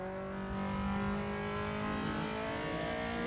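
EG Honda Civic race cars compete at Donington Park, their engines holding a steady, close, high revving whine with clear harmonic tones that rises slightly early on, loud and alone without voices.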